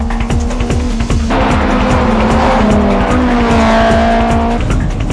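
Mitsubishi Lancer and Honda S2000 race through mountain pass corners on a touge run, engines revving loud and close with rising and falling pitch while tires squeal and skid continuously.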